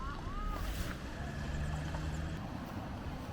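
The Bukhtivets-Bystrytsia waterfall in the Bystrytsia valley gives off a steady, even rush of falling water, faint and constant with no pauses.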